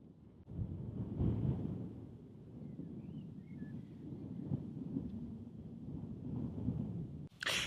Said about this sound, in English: as you can tell, it's super windy